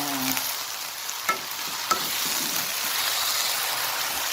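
Water spinach (genjer) stir-fries with anchovies and petai in a hot pan, a steady close sizzle with a couple of brief clinks from the utensil against the pan.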